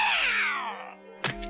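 Cartoon cat in a Smurfs episode lets out a long, loud drawn-out meow that slides downward, followed by a short sharp yowl, close and clear without speech.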